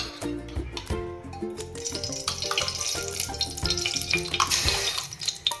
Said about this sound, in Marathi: तर चला आता आपण तूप घालून घेऊ।